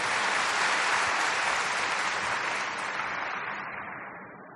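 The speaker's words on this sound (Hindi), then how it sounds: "अभी ताली तो बजाओ" A large audience gives sustained, dense applause, with steady clapping at full strength that slowly fades toward the end.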